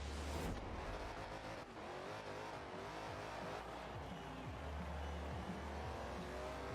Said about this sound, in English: With this rear wheel drive just ripping through tires